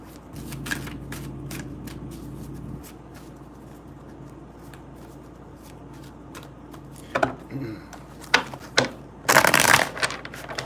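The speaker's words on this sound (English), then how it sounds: "What is with these short shuffles?" Quick bursts of cards being shuffled, a few short riffling flurries near the end, over a low steady background hum.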